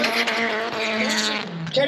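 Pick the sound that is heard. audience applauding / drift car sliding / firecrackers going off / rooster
drift car sliding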